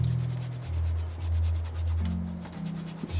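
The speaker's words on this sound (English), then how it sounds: "Which just means I will scrub harder." Salt crystals are scrubbed off a painted miniature model surface, producing close, rhythmic rubbing strokes that run continuously with a low tonal hum underneath.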